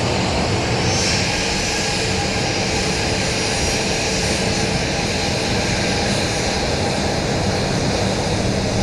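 A Dash turboprop airliner bound for Amarillo passes near Dallas Love Field on a snowy December day, its steady loud engine roar and broadband rush holding constant throughout with no talk.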